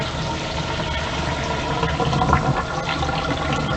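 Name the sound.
tap water running while draining pasta shells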